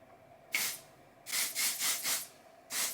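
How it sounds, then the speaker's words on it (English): Several short hissing sprays from an aerosol can: one burst, then a quick run of four, then another, close and fairly quiet. "So I'm gonna spray a little bit."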